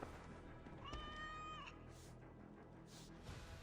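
A cat meows in Assassin's Creed Valhalla, a single drawn-out tonal mew near the start, heard fairly close and quiet over a low game background.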